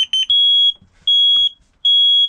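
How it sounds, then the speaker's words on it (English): A fire alarm being tested inside a 2017 Swift Elegance 580 caravan gives three loud, piercing electronic beeps, each held for about half a second with short gaps between, close by and with no talk over it. "Carbon monoxide alarm is here, fire alarm is here, the test buttons are there."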